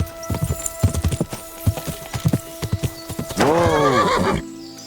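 In Kingdom Come Deliverance 2, a horse's hooves clip-clop in an uneven walking rhythm. Then a loud, close, drawn-out whinny sounds, followed by a brief snort.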